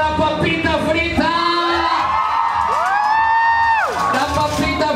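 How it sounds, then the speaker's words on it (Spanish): An audience at a drag show grand final runway cheers for a performer, with loud whoops and rising, sliding shouts over a continuous crowd roar. "El aplauso para la papita frita"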